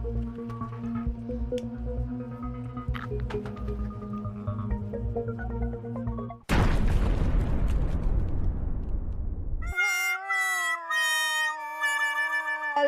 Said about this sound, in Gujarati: લગતવાળા ઘરમાં બોમ્બ ફૂટ્યો.